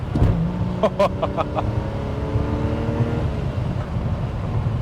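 A 1991 Alfa Romeo Sprint Zagato on the move, its engine note a steady, close hum with tonal rises and falls that run throughout.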